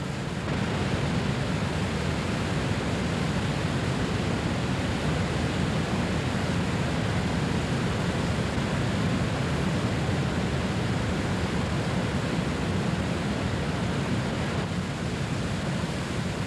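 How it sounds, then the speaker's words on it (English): The Colorado River's rapids in the Grand Canyon roar as the water rushes over boulders, a loud, dense, unbroken wash of white noise that holds steady throughout, with no voices. "The river gains speed and energy as it is forced through the constriction and over the boulders."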